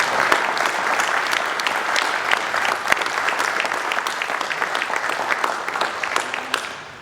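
Sustained applause from a crowd at a community meeting in Idyllwild, many hands clapping loudly and evenly for several seconds before tapering off at the end.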